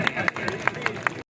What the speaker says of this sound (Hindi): भाई जोरदार तालियां